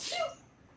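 A single short, sharp sneeze bursts out close by, then fades into quiet room tone.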